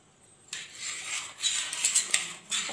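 A spoon scrapes and stirs coffee powder and other pudding ingredients in a bowl, making several short, close rasping bursts with brief pauses between them.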